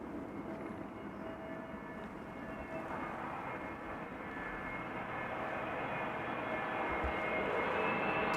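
EasyJet airliner at Amsterdam Schiphol Airport, a continuous broad jet engine roar heard from a distance that slowly grows louder toward the end.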